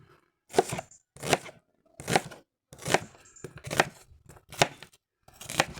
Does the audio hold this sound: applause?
no